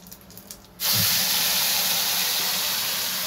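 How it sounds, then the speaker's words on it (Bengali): Spice paste poured into hot oil for a fish curry erupts into a loud, sustained spluttering hiss, close up, after a short quieter stretch of gentle sizzling. "আঁচটা কিন্তু কমিয়ে দেবে, এটা একটু ফটফট করে ছিটকোতে থাকে।"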